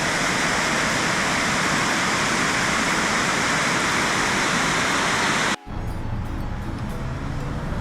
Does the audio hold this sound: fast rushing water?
yes